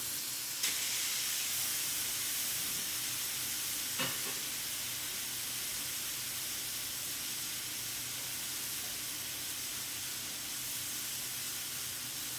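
Steaks searing in browned butter in a hot pan, a steady loud broadband sizzle and hiss that holds constant throughout, with a couple of brief sharp pops or clinks near the start.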